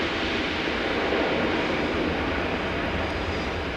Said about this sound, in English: The Airbus A400M, the Atlas. Wow, what an incredible aircraft.